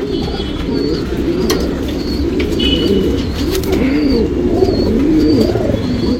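Lal Cheeni breed pigeons coo in soft, rolling, repeated phrases close by, with a steady murmur of more birds and occasional wing flutters and faint chirps.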